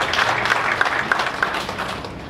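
An audience at an MMM South Africa event in Pietermaritzburg applauds in a steady, moderately loud patter, with a few sharper claps standing out and voices mingled in the crowd noise.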